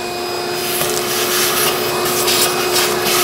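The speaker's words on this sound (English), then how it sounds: "I'm just gonna vacuum it." Vacuum cleaner clearing debris around the spark plug area of a 1995-2004 Toyota Tacoma 2.4L four-cylinder engine, a close, steady whine with scraping, rubbing bursts as the nozzle moves over the engine.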